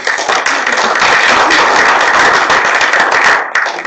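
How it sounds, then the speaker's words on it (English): Audience applause at a live talk fills the room, a dense steady wash of many hands clapping close and loud for nearly four seconds, dipping briefly near the end. "one more round of applause"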